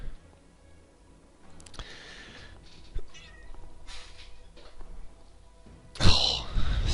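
A house cat meows loudly and close by near the end, following softer rustling and faint movement noises in a quiet room.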